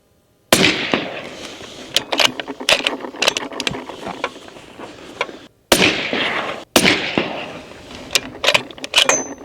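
Rifle shots ring out at an outdoor shooting range while the zero of the rifle is checked, a string of sharp, loud cracks at irregular intervals with mechanical clicks and clatter between them.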